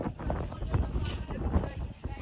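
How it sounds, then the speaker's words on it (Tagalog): Strong wind buffets the microphone outdoors near a bamboo hut and kubo, with gusty low rumbling that rises and falls under a person talking. "Ang lakas ng hangin."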